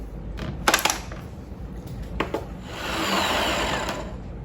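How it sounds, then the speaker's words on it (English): Blender or food processor pureeing a whipped feta mixture, starting with a few short clattering pulses, then building into a steady, fairly loud whirring run near the end. "All right, so we're just gonna puree this until it is smooth."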